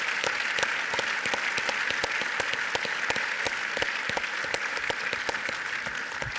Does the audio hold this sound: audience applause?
yes